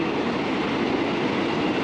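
A long freight train loaded with shipping containers rolls past nearby, a steady loud rumble of wheels on rails.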